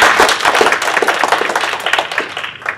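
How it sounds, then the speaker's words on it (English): Audience at a graduate student symposium claps for the panelists, a dense, steady patter of many hands close by that thins slightly toward the end. "Can we give them another round of applause?"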